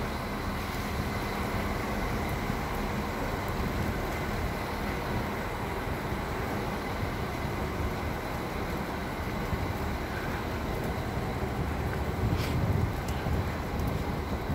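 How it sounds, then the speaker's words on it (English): A very long train passing at Graz central station in Austria, a steady broadband rumble and rolling noise that holds evenly throughout, with wind buffeting the microphone. "guys this train is long"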